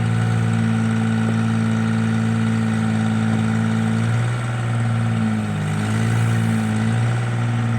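A forestry bucket truck's gasoline engine, fitted with a Kubota pony motor, runs loud and steady at a low droning idle while the truck is moved into position, its pitch wavering briefly partway through.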